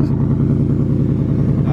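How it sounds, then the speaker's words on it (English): Toyota Supra engine idling on its stock exhaust, a steady low droning rumble that holds evenly throughout at close range. "It's a stock exhaust right now, but he's gonna be doing some modifications to it soon"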